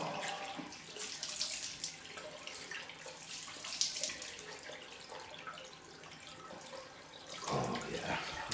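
A tap runs steadily into a sink for a post-shave cold rinse, a continuous close splashing wash with slight shifts as hands move through the stream.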